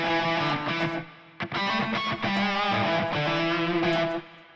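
Electric guitar played through a TONEX pedal with plate reverb, sustained distorted chords and riffs with a sharp break early on, ending in a smooth shimmering decay.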